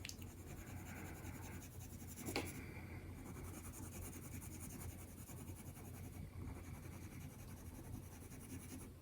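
A colored pencil glides lightly across paper in a soft, continuous scratchy hiss of quiet strokes, close and faint, with one brief sharper stroke partway through.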